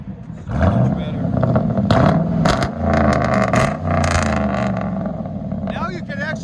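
Deep, loud exhaust roar from a straight-piped Chevy Silverado 5.3L V8 with true duals rumbles up close through several rev surges, and a voice talks over it in places.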